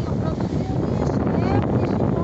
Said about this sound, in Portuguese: Hoje tá ventando um pouquinho.